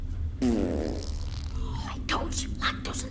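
A fart sound effect in a scary movie scene, a loud buzzing rasp that rises and fades over about half a second, followed by muffled movement and faint voices.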